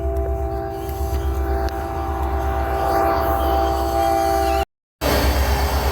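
A train rumbles past nearby in Loving, New Mexico, with a steady low roar and a sustained horn tone, loud and continuous before cutting out briefly.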